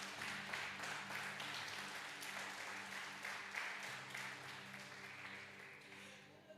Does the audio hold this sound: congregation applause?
yes